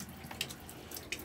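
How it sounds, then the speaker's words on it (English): Caravan taps left open with the onboard pump running, giving a steady, moderately quiet hiss of flowing water with a couple of brief splashy spikes and no talk. "Now we have water running out of every tap continuously"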